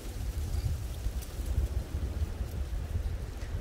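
Strong wind gusting across an outdoor campfire site on a cold, very windy day, a steady low rumbling roar with buffeting against the microphone and no voices.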